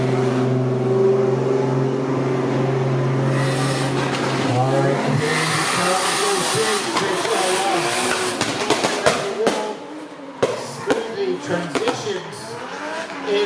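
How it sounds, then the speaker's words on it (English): A BMW E30 drift car at a drift series qualifying round in Miri, Sarawak roars with a loud engine drone, rising revs and tire squeal as it slides, while a commentator talks over it. "BMW E30, very nice. Very nice build. But here we go, Richard piloting it today."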